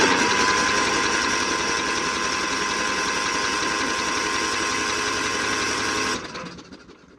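A non-running John Deere 316 garden tractor with no spark cranks steadily over its two-cylinder engine, a loud, even churning drone that runs for about six seconds and then cuts off abruptly.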